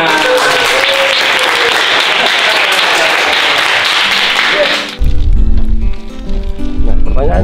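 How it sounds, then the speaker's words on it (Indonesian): Children in a coastal classroom clap their hands together in a loud, steady burst for about five seconds. It stops abruptly and is followed by louder music and voices. "Tepuk tangan."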